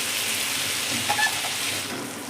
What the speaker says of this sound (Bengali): দেখুন, এবার তাওয়ার মধ্যে কিন্তু আমি মশলাটা দিয়ে দিলাম।